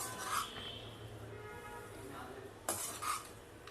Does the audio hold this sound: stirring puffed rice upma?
yes